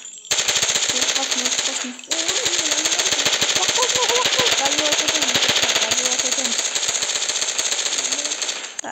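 Rapid automatic gunfire from a video game rattles loud and near in long sustained bursts with a short pause, while a player talks over the shooting.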